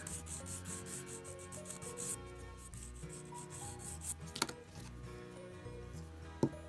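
A dip powder nail is filed into a coffin shape, with soft, close rasping strokes repeating in a steady rhythm and a couple of sharp little clicks near the end.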